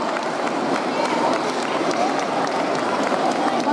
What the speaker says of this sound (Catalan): Un fort aplaudiment per al grup de Vinaròs.